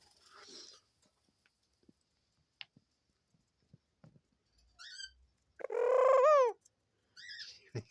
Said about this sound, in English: She makes such a beautiful coo